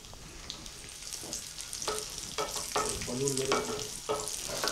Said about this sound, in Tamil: அடுத்ததாக நம்ம வந்து இதில் முந்திரி பருப்பை போட்டு வறுத்து எடுத்துடலாம்